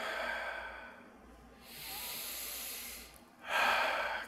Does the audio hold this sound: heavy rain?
no